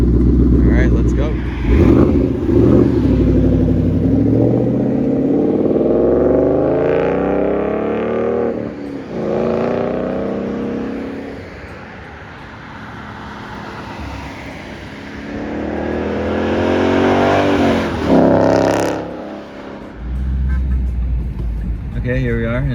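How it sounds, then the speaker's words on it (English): A 2014 Ford Mustang GT engine accelerates while the car is being driven, heard loud and close from inside, rising in repeated pulls, easing off in the middle, then building again. "Okay, here we are in Mustang, going for a little ride."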